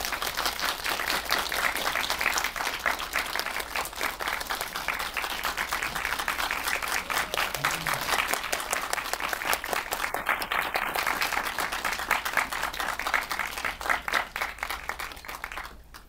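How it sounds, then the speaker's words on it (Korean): Sustained audience applause at an indoor film event as a director and actor are welcomed on stage, dense steady clapping continuing evenly throughout, fairly close and filling the room with no talk over it. "큰 박수로 환영해 주십시오."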